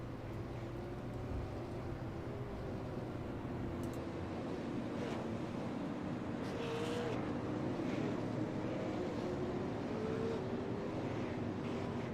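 Super late model stock cars at Nashville Superspeedway make a steady, distant engine drone running under the pace car, a continuous wash of roar with wind noise and no clear individual passes.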